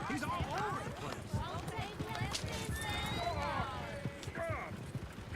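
Horses galloping in Red Dead Redemption 2, a loose clatter of hooves running under excited overlapping speech, with a faint whinny and a mechanical rattle in the mix.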